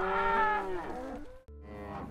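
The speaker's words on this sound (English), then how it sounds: "cows kind of going everywhere" Cattle on a ranch cattle drive in Utah give a long, loud, close moo that fades out, followed after a short gap by a fainter second lowing call, with no talking.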